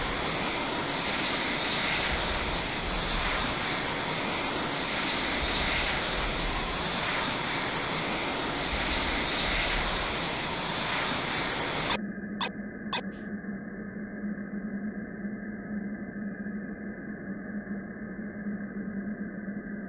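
A steady jet-engine roar from a fighter aircraft in the flight simulator game Falcon 4 Allied Force fills the first twelve seconds, then cuts to a quieter, thinner engine drone after a few clicks.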